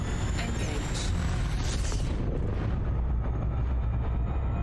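A spaceship's frame shift drive jump in the space game Elite Dangerous, flown in a Krait, as a loud, sustained roaring rumble with a bright whooshing surge that fades away toward the end.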